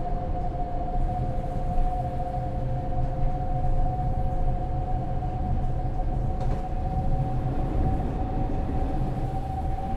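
Passenger train from Train Sim World 6 running through Melrose station on the New York City to Stamford line: a steady, loud rolling rumble with a sustained tonal hum, continuous and unbroken.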